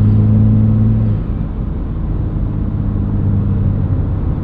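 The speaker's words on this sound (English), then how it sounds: "All right, exhaust brake time. Hit it." A loud truck engine rumbles, its deep droning tone shifting and dropping as the exhaust brake kicks in, then settling into a steady growl.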